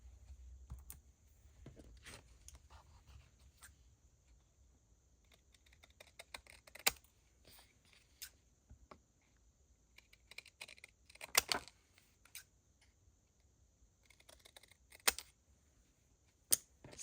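Paper tickets and labels being cut out with scissors at a craft table, giving sparse, quiet snips and clicks scattered irregularly over a faint steady hum, with no talking.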